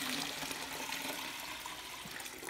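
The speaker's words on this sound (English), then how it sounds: "I'm going to put some of this water" Steady broadband rush of water pouring continuously into a bucket, fairly even in level throughout with no voices.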